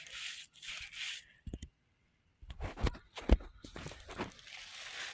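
Something rubbed back and forth on grass outdoors, giving soft rustling swishes in short bursts with a brief pause partway through, close and fairly quiet.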